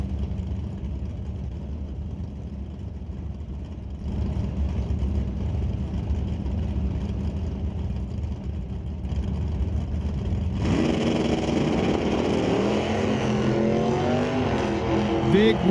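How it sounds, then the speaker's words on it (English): A 96 Camaro with a 350 Chevy and a blue Chevy S10 launch side by side at a drag strip, engines roaring loud and steady, then surging louder as both cars leave the line, with an announcer talking over it. "Big wheelie for the Camaro, big wheel spin for the S10"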